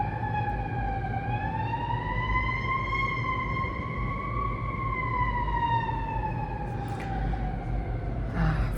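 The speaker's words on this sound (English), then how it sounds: "there's a lot of sirens today." A wailing emergency vehicle siren sweeps slowly up and down outdoors, loud and steady over a low traffic rumble for the whole stretch, with no one talking.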